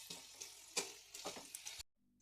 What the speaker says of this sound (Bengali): কড়াইতে তেল দিয়েছি, আলুগুলোকে ভেজে নেবো।